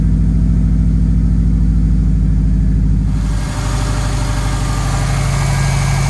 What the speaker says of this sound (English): We're gonna let her warm up here a little bit just with idle